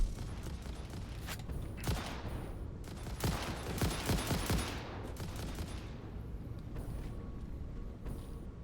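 Weapon fire in the Satisfactory video game, with bursts of rapid sharp shots clustered in the middle over a continuous noisy background, moderately loud.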